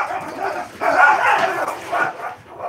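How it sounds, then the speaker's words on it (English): Dogs bark in several bursts, a mid-pitched, somewhat distant volley of woofs and yips with brief gaps between flurries. "not sure quite what sent my dogs off just now, but something did"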